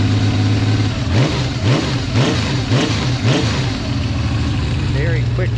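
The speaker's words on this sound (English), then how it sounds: "Very quick revving." A warmed-up 1976 Benelli Sei six-cylinder motorcycle engine blips up and down in five or six rapid, close, loud revs over a steady idle, then settles back to idling.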